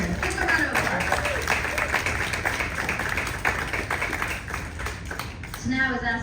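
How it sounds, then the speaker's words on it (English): Audience applauds steadily throughout a retirement celebration, a dense wash of many hands clapping close by, ending in a brief swell. "Give him a round of applause."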